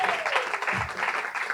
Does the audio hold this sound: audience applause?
yes